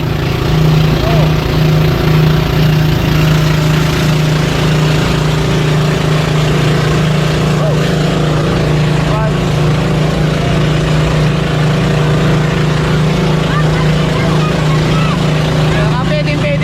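Twin engines of a big new fishing boat run at a steady, loud, droning pitch close by, with people talking over the continuous engine hum.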